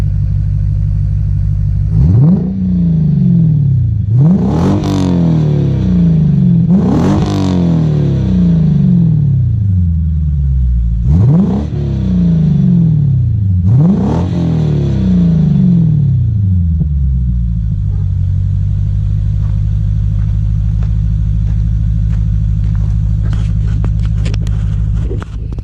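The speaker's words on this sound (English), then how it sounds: "let me go ahead and give you guys some revs so you guys can hear it." A 2008 Lexus IS F engine revs five times in quick succession, each rev climbing sharply and falling back, then settles into a loud, steady idle.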